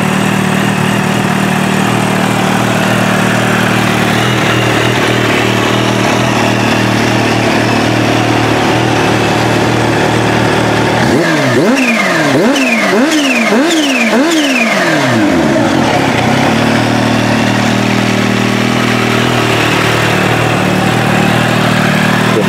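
Supercharged Kawasaki Ninja H2 motorcycle fitted with velocity stacks and upgraded supercharger gears, idling steadily, then blipped through about five sharp revs in quick succession before settling back to a low idle, loud and close.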